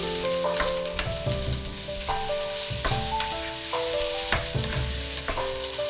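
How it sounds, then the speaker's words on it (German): Bell peppers hit a frying pan with a little oil for a Chinese beef stir-fry, giving a continuous loud sizzle with stirring, heard beneath steady background music and no speech. "die Paprika in die Pfanne geben."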